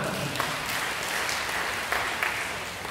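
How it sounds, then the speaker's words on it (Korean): A church congregation claps together during a sermon, a continuous, even patter of many hands that holds steady at moderate volume for a few seconds. "박수 한번 해주시고"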